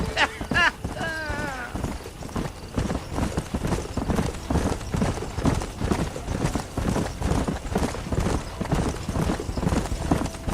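Horse hooves clip-clop steadily at a trot in the Western video game Red Dead Redemption, a continuous rhythmic beat close up, with a voice briefly heard near the start and a horse whinnying faintly.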